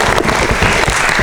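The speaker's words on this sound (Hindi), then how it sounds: "एक बार जोरदार तालियां बजाएं हमारे गौ सेवकों के लिए" Loud, vigorous applause from a crowd at a Hindi poetry gathering, honouring cow protectors; a thick, continuous wash of clapping close up, with no speech over it.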